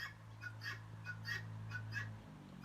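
Several young jungle fowl crow in a repeating series of short, raspy calls, moderately close, over a steady low hum.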